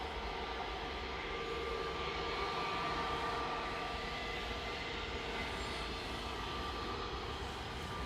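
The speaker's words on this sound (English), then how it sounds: "First BA shuttle heading down to Heathrow" British Airways A320 Classic shuttle jet departing Manchester Airport for Heathrow, its engines a steady, broad roar heard from a distance without any voices.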